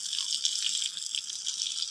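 Water runs from a fully opened tap in a home, a steady hissing gush that stays loud and even throughout, with no voices.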